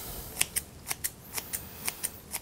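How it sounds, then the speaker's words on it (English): Kitchen scissors snip fresh dill for a salad in about a dozen crisp, evenly spaced cuts, quiet and close, with no talking. "You could just take some scissors"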